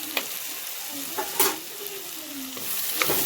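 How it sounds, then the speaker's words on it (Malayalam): Sliced onions with salt being stirred and frying in a pan for a cauliflower curry. A close sizzle runs under a few quick scraping strokes of the spoon across the pan. "എന്നിട്ട് ഒന്ന് നല്ലോണം ഒന്ന് ഇളക്കി കൊടുക്കാം"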